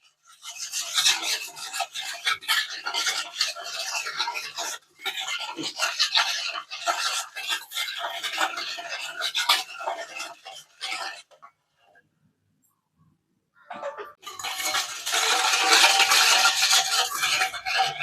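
A spoon scrapes and rubs around a bowl while sugar is mixed into a mixture to dissolve, in repeated close rasping bursts with a brief pause before a louder final stretch.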